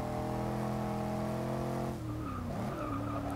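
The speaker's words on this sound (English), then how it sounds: "the original Range Rover Supercharged had a good sounding engine, but putting the F-Type engine in this is a work of genius" A Range Rover Supercharged fitted with an F-Type engine in the Forza Motorsport 6 racing game, its engine droning steadily before tires screech and skid through a corner, the pitch dropping and wavering as the car slides.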